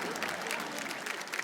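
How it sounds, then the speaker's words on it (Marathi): A studio audience on a Marathi women's TV game show claps enthusiastically, a fairly faint burst of steady applause lasting over a second with a little crowd noise mixed in. "एकदा जोरदार टाळ्या"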